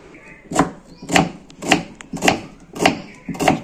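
A whole onion is finely chopped with a knife on a board for fuluri bhorta, giving six evenly spaced, close and crisp chopping knocks in a slow, regular rhythm.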